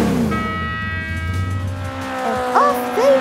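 Toy Numberblocks racing cars run along a track, a steady motor whine with tonal engine-like lines, then a couple of short rising chirps near the end, fairly loud and close.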